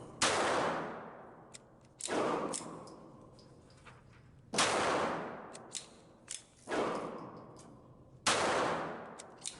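A Kimber 1911 pistol fitted with a .22LR rimfire target conversion kit fires CCI rounds in four sharp, evenly spaced single shots, each followed by a short decaying echo, with faint clicks and handling noises in between.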